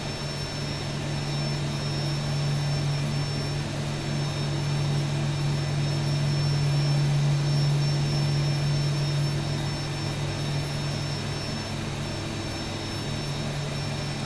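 Jet airliner taking off in the X-Plane 12 flight simulator, a steady continuous engine roar with a low drone that holds evenly throughout and no voices.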